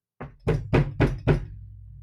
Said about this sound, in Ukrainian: Застукав хтось у двері.